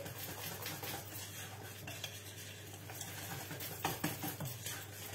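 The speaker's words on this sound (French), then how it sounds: "Et on continue à mélanger." Vanilla zebra cake batter being mixed in a bowl, soft continuous stirring with occasional light clinks of the utensil against the bowl, faint and close, with no talk.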